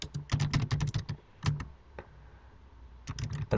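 Keys clatter on a computer keyboard as a command is entered, quick bursts of close clicks, a short pause, then another run of taps, with no voices.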